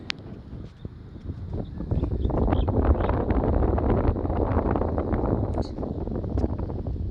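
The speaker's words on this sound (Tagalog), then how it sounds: "Lakas ng hangin." Strong wind buffets the microphone beside a swimming pool in Tagaytay, a rough rumbling roar that builds after a couple of seconds and stays loud and gusty.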